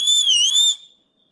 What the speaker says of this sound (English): Before we let you go, whistle for it, please.